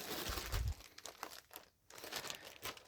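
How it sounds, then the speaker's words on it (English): Plastic bags crinkle and rustle as they are handled for packing clothes, a close, continuous crackling with a louder burst early on and a brief quiet pause midway. "So I have some plastic bags that I got."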